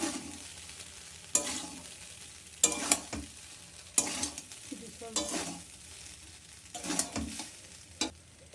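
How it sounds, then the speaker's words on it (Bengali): Fried potato and scrambled egg being stirred together in a hot pan, with repeated scraping strokes of the spatula over a continuous close sizzle of oil. "এবার এটা দিয়ে মিক্স করে নেবো।"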